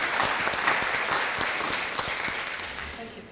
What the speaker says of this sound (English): So a round of applause just to encourage her